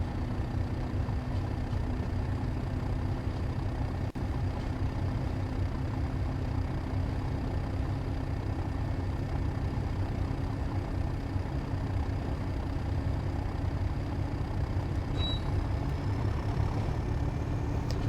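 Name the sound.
train engine accelerating in Train Sim World 3 video game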